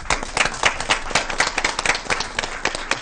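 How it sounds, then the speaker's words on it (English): An audience at a school board meeting gives a round of applause. The clapping is dense, steady and fairly loud from a roomful of people, filling the whole moment without speech. "So I want to give you a round of applause."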